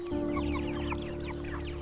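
A chicken clucks in short, soft bursts at a poultry shop, over a steady electrical hum and low background murmur.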